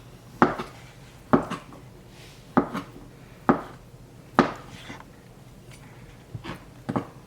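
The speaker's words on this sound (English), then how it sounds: "It actually makes it easier to slice the potato" A knife cuts thin slices of potato against a cutting board, giving sharp, evenly spaced chops about once a second, close and distinct, with no talking.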